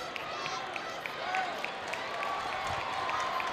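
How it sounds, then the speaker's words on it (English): Crowd at a men's college basketball game between Western Carolina and Appalachian State applauds steadily in a large arena, a continuous wash of clapping and murmur under faint sneaker squeaks, with no clear voice on top. "And the crowd applauding the effort of Trey Sumler."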